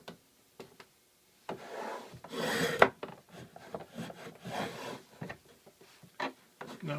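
A hand tool cuts reeds into a wooden table leg, raising full shavings: irregular scraping and rasping strokes, close and moderately loud, with short pauses between passes.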